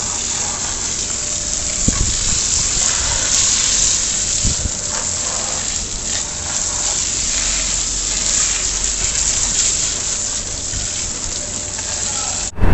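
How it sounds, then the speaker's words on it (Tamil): Water is sprayed to wash a motorbike chain, giving a steady loud hiss and gush that carries on almost unbroken, with a couple of sharp knocks near the start and no talk. "இப்போ நம்ம வந்து தண்ணியை வந்து ஸ்ப்ரே பண்ணி ஃபுல்லாக வாஷ் பண்ணி க்ளீன் பண்ணிட்டு"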